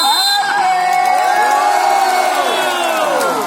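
A crowd at a grand final volleyball match in Aceh roars and whoops, loud and continuous with children's shrill shouts rising above the mass of voices.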